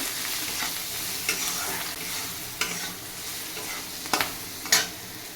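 Potatoes and tomatoes frying with salt and turmeric in a pan, a steady close sizzle broken by several sharp scrapes and knocks of a spatula stirring against the pan.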